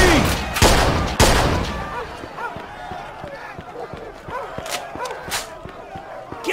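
Gunfire rings out in the video game Mafia 2, two loud, sharp shots up close, followed by a rapid scatter of lighter cracks and clatter with voices around them.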